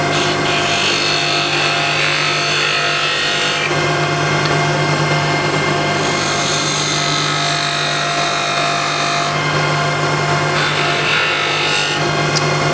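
A spindle gouge with a swept-back grind cuts wood on a lathe up to a perpendicular edge, giving a steady, loud, close scraping rasp that shifts in tone a few times as the cut moves along.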